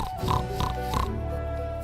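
Pigs oinking in a children's television program about the first domesticated animals: three short grunts in quick succession, then a fading tail, all set over steady background music.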